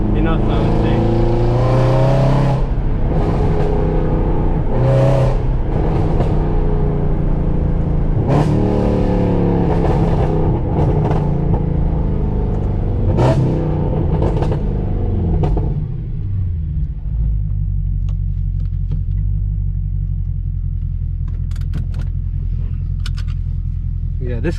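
A 2020 Mercedes C63 AMG Black Series engine rumbles and revs while driving on new tires, with loud rising and falling pulls that settle into a steady low drone, and a voice talking over it.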